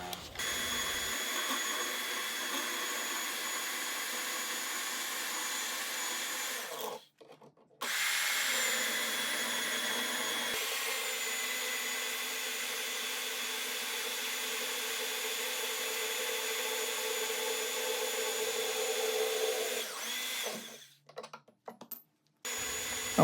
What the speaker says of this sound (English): you really want to go slower than you would with wood, especially the larger drill bits, which this is a 1/2 inch